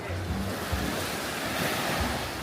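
Ocean surf washing onto a small beach in Jamaica, a steady broad roar of breaking waves with gusts of wind buffeting the microphone throughout.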